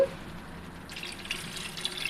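A glass of water poured into a pot of tamarind fish curry, giving a soft trickle that swells into a fuller splashing pour, fairly quiet and close, with no voices.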